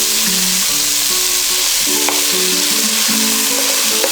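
Mustard oil with salt and chickpeas frying in a pan, a bright, constant close-up sizzle with a tonal whine and shifting pitches layered over the hiss.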